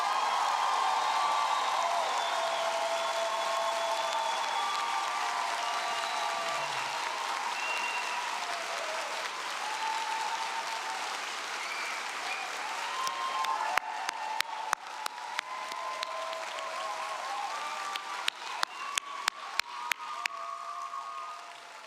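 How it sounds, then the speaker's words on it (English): Sustained applause from a large audience at a college commencement ceremony, steady and dense throughout, with a few louder sharp claps and scattered cheers standing out near the end. "I would like you all to pause for a moment to applaud the resilience that these young people have shown to complete their education"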